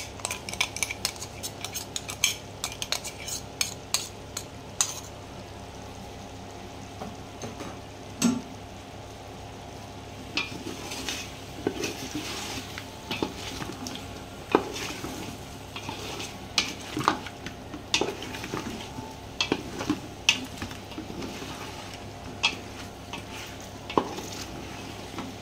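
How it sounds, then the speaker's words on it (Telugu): Spices and ginger garlic paste being stirred in a frying pan, with repeated sharp metallic clinks of a spoon against the pan over a steady low background and no talking. "ఇందులోకి స్పైసెస్ మొత్తం యాడ్ చేసేసుకుందాం. ఫస్ట్ అయితే ముందుగా ప్రిపేర్ చేసి పెట్టుకుందాం అల్లం వెల్లుల్లి పేస్ట్ యాడ్ చేద్దాం."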